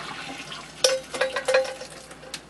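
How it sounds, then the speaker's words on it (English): Water is drained off simmered potatoes in a pot, with a few quick metallic clanks and splashy pours in a short burst, then quieter trickling. "So I just drain off the water"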